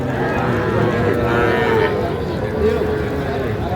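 Young bull calves mooing at a cattle farm market in Khulna, drawn-out lowing calls close by over a constant background of crowd and farm noise.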